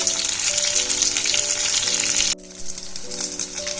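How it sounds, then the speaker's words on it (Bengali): Eggplant slices fry in a pan with a loud, dense, steady sizzle up close, briefly dropping quieter partway through before resuming; background hum, no talking. "বেগুনগুলো ফ্রাই হয়ে এসছে"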